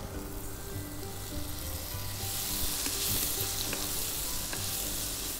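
Onion and tomato sautéing in a pan for a restaurant-style mixed vegetable sabzi, producing a continuous even sizzle with a few faint clicks of stirring.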